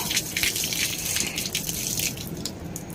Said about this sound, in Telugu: ఇలా చందమామని చూస్తూ పూజ చేసిన వాటర్ ఉంటాయి కదా, ఇలా అభిషేకం లాగా చేయాలన్నమాట